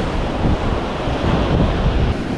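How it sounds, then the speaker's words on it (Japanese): Low ocean surf rolls steadily along a sandy beach, a broad continuous wash with gentle swells, mixed with wind rumbling against the microphone. "今日はそんな波高くないからね。"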